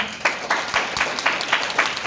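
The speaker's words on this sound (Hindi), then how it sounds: "ताली बजा के" An audience at a Hindi sermon claps in a steady rhythm, about four beats a second, sustained and fairly close, filling the whole stretch.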